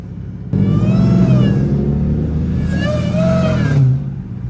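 A Dodge Charger Demon 170 engine rumbles loud and close, revving with a rising and falling whine, then drops away near the end.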